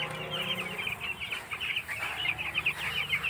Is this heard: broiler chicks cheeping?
yes